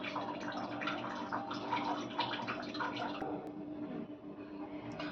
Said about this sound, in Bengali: এখানে আমি সবজিটা ধুয়ে নিলাম